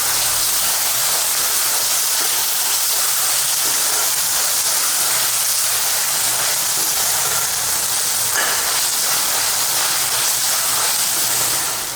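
Ginger garlic paste frying with onions in a pan for a spicy chicken curry, a loud, steady, close sizzle that hisses without pause and with no talking.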